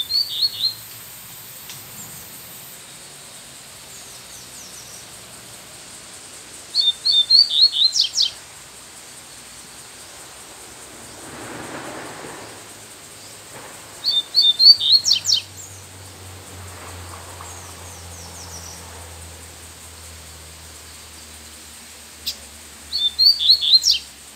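Double-collared seedeater singing in the wild, short bright bursts of song repeated at intervals over quiet background, with faint rustling between phrases.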